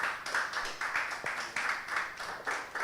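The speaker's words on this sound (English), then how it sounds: "Please keep clapping for Doc" Audience applause greets someone speaker, social justice advocate Dr. Rose Mensah Kutin, at a thought-leadership conversation event: dense, steady clapping from a crowd, moderately loud and sustained throughout, with no voices over it.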